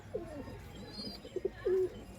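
A pigeon coos softly nearby, a few short throaty coos followed by a longer rolling one, faint and alone against quiet background.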